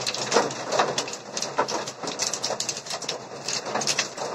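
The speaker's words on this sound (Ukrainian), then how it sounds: "Просто трошки дождик і град мантула." Rain and hail pelt down during a storm with gusting wind in the village of Rozdory, Dnipropetrovsk region, making a steady rushing patter broken by sharper irregular hits close to the microphone.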